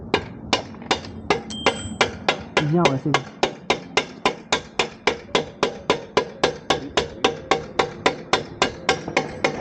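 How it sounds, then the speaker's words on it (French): Steady hammer blows drive a wheel axle into a Yamaha XJ600 Diversion motorcycle during a cush drive replacement, about thirty sharp metallic strikes in an even rhythm, close and loud, with brief speech near the start. "Tape dedans au marteau au pire si jamais il y a besoin"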